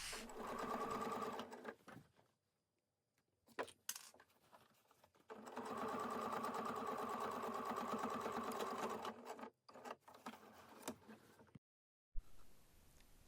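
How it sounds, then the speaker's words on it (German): A domestic sewing machine stitches a seam on a reversible tote bag sewn from a cushion, running in two close, steady whirring bursts with a quiet pause between them and faint handling noises around them. "ein paar Stiche darüber hinweg nähen und die Naht verriegeln"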